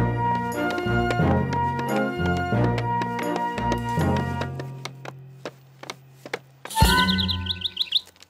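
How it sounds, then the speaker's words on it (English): A cartoon bird chirps in a cluster of quick, high tweets near the end, following a bouncy passage of background music. "That bird really likes it here, Tom"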